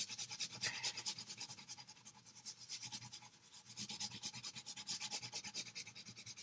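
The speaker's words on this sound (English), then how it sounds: "I'm just using the side of the crayon, this part I'm coloring with, not the tip." A crayon rubbed on its side across paper for a red-violet fill, giving a steady, close, rhythmic scratchy rubbing in quick repeated strokes, alone without speech.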